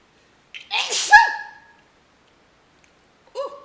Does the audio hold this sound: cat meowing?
no